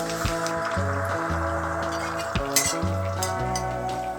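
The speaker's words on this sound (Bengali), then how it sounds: "তেল গরম হয়ে গেছে এবার প্রথমে আমি রসুনটা দিয়ে দিচ্ছি" Chopped garlic sizzles and fries in hot oil for a tarka with egg, a steady crackling hiss under faint tonal background music, with a few brief bright spatters and no talk.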